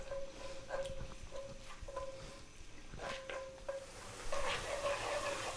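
Onion, dried red chili and garlic fry quietly in a pan, a soft sizzle broken by several light stirring scrapes and clinks, faint and close.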